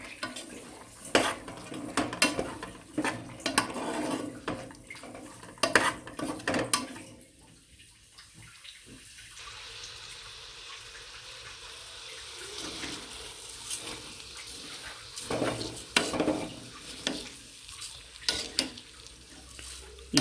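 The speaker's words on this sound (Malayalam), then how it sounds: "വഴറ്റി യോജിപ്പിക്കുക." Carrot and rice being stirred and sautéed in a pan with spiced masala for Malabar biryani, giving repeated scraping and stirring clatter with light sizzling, close and fairly loud, easing off midway before picking up again.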